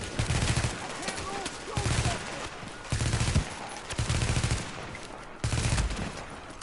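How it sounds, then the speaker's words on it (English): Bursts of automatic gunfire in Tom Clancy's The Division, several loud rapid volleys repeating every second or so with short gaps between them. "who's shooting at you?"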